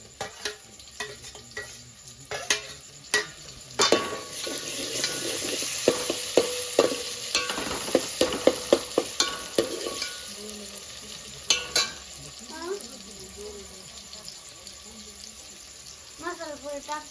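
Chopped tomatoes fry in a pan for egg curry, with a soft sizzle under repeated scraping and clattering stirs of a spoon. A faint voice comes in near the end.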